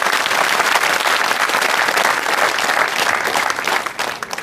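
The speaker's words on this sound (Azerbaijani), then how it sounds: "Bir özünüzü də yaxşı-yaxşı alqışlayın." Studio audience of a comedy show applauding, a dense, steady wash of clapping that holds loud and continuous throughout before tapering slightly at the end.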